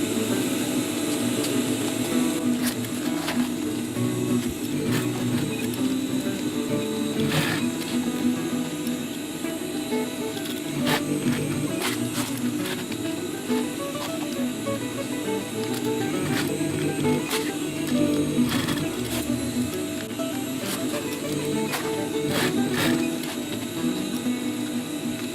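A sewing machine runs a continuous mechanical whir and rattle as it double stitches a tacticool utility pouch, with sharp clicks and knocks at steady intervals over a constant motor hum, close and fairly loud.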